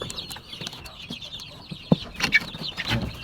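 Backyard chickens, Cajun Lemon crossbreeds among them, cluck near the microphone in short irregular bursts, with one sharp louder cluck in the middle and scattered softer calls around it.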